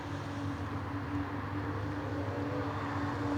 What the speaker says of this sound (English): can hear the noise of the engines